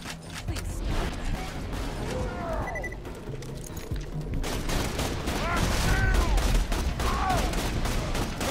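Rapid automatic gunfire and bursts of shooting in the video game Borderlands 2, loud and dense throughout with game effects mixed in, and a voice talking beneath the firing.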